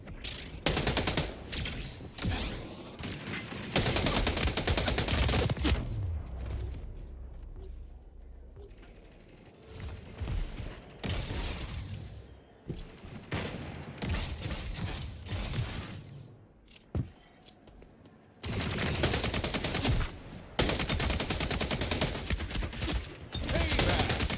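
Shotgun fire in the online shooter Splitgate 2: dense, loud bursts of blasts and mechanical clatter that ease off into a quieter stretch midway, then return to heavy firing.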